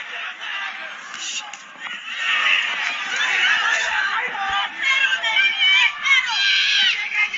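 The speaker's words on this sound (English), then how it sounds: "As you can hear this massive crowd in Tokyo trying to rally support for their hero." A huge crowd roars and cheers continuously at a Tokyo boxing match, Naoya Inoue vs Luis Nery, rising into louder surges with shouts standing out, sounding like a packed arena.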